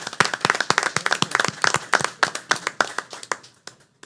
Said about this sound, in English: let's give all of our educators, those that I mentioned, and all of our educators, a round of applause